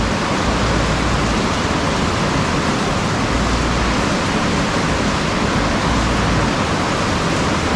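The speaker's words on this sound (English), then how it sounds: "A little bit of rain." Steady, dense hiss of rain falling close by on a shipping container build, a constant broadband wash with no pauses and no voices.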